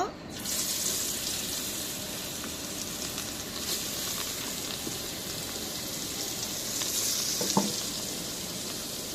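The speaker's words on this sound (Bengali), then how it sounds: "এখন মাছটা ভেজে নিব।" Marinated fish fries in oil in a pan, giving a steady close sizzle that runs throughout with occasional crackles and light utensil clicks near the end.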